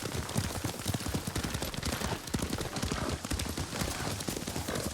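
Rapid, steady hoofbeats of a horse being ridden in a video game, a dense galloping clip-clop that carries loud and continuous throughout with no talk over it.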